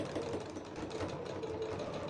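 A sewing machine stitching a spare toilet roll holder, running in a steady close mechanical whir with a rapid even needle rhythm throughout.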